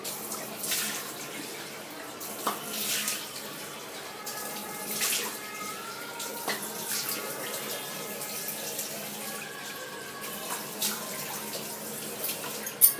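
Steady, soft running water from a tap during face washing, a continuous hiss with faint splashes and small clinks, fairly close and without talk.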